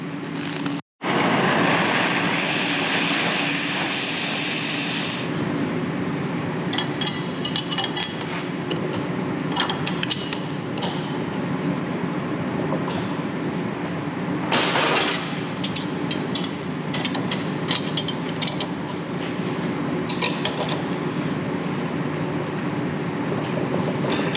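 A torch heats a collar on the AC compressor of an Audi R8 4.2L. A loud, steady roaring hiss starts after a brief gap and runs throughout, with light clicks and rattles over it.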